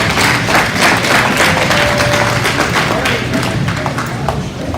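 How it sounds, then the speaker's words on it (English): Loud, sustained applause from an audience at a cattle show, dense clapping filling the arena steadily from start to finish with a faint murmur of voices underneath. "Let's give those 4 individuals a really good round of applause"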